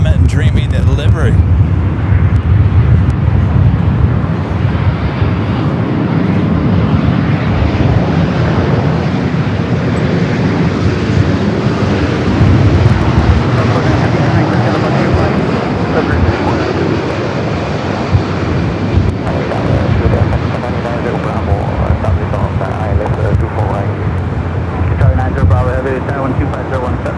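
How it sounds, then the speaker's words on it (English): Qantas flight 93 from Melbourne on final approach to land at Los Angeles LAX, a loud, steady jet roar mixed with gusty wind buffeting the microphone for the whole stretch. "All right, Qantas flight 93, the flight coming in from Melbourne."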